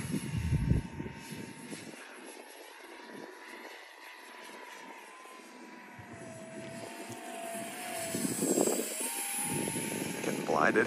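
Remote-control model Space Shuttle flying on three electric motors, a whining motor drone rising and falling in pitch as it passes overhead, moderately loud, with people talking over it at times.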